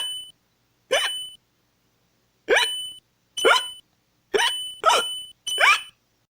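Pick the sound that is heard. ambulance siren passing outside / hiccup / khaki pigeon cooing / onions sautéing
hiccup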